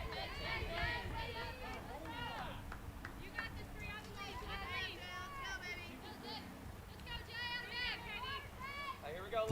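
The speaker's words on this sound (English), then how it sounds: "The Nighthawk defense getting loud out in the field, cheering on their freshman hurler, Jaylee Hawthorne." A college softball team's defense out in the field at a district tournament calls out and cheers loudly, with many voices overlapping in lively, rhythmic shouts over crowd noise.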